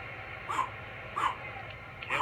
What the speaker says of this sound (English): My dog is telling me it's meal time.